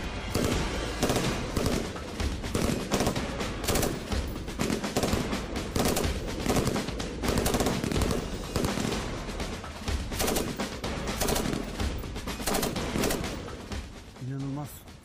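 Bursts of gunfire from a police special operations weapon during a special operations training course, dense and continuous shots filling the whole stretch with loud, sharp reports, with talk mixed in.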